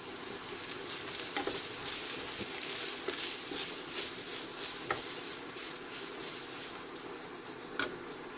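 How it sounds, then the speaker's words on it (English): Onions fry in lard in a pot for a Hungarian paprika potato stew, a continuous crackling sizzle with bursts of scraping and clattering as the mixture is stirred; no voices. "But in this case we're just stirring the whole thing."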